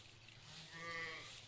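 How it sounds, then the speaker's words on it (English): A sheep bleats once in a garden, a wavering mid-pitched call rising briefly over quiet outdoor background noise. "There's a sheep."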